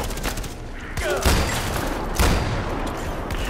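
Shotgun blasts in Far Cry 4, two heavy booming shots about a second apart, loud and close amid game noise.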